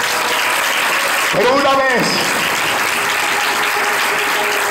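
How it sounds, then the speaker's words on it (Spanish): Congregation applause fills an evangelical church service as a steady, dense wash of clapping, with a voice briefly speaking over it partway through. "Le da un aplauso"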